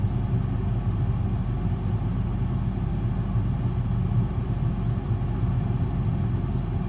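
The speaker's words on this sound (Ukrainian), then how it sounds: "Це я тільки завів, кондиціонер працює." A car engine idles steadily just after starting, with the air conditioner running, on a hot summer day, giving a continuous low rumble and hum at moderate level with no talk over it.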